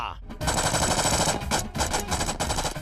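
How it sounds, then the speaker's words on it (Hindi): Automatic gunfire in a Hindi-dubbed South Indian action movie scene, a dense rattling burst that runs almost continuously at high level, with brief gaps and a moment of speech. "चलो गोली चलो भाई, गोली चलाओ।"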